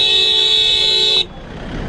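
Car horn on a busy road as many vehicles arrive for a political padayatra march, a loud sustained honk holding for over a second and then cutting off, leaving steady traffic noise behind.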